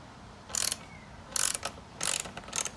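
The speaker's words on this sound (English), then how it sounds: "this is done using an 8mm socket. Okay, so we'll just loosen that." A ratchet wrench with an 8mm socket loosens a seat bolt on a Yamaha R3 motorcycle, making four short bursts of close, crisp clicking separated by pauses in a quiet room.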